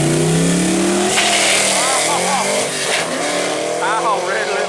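Foxbody Mustang nicknamed McNugget launching hard at a drag strip, its engine roaring loud and close with rising revs through the run, while people talk excitedly over it.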